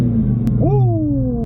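A 2023 Dodge Charger SRT 392 Scat Pack V8 rumbles steadily up close, with a brief rising rev partway through.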